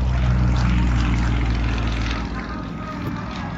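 An aerobatic airplane flies a Cuban 8 at Airshow Atlantic 2024, its engine a loud, continuous droning roar that eases slightly partway through, close and steady throughout.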